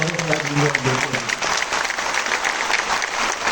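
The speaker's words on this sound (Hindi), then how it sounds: "एक बार जोरदार ताली डॉक्टर बाबा साहेब भीमराव अंबेडकर" Loud crowd applause at a public stage event honoring Dr. Babasaheb Bhimrao Ambedkar, dense clapping from many hands, with a voice speaking briefly over its opening moment.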